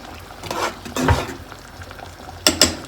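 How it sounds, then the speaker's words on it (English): A spoon stirs chicken and dumplings in a pot, scraping and knocking in a few short strokes, ending with two sharp metallic clinks. "I want the clumps all taken apart, so I'm going to stir it really good."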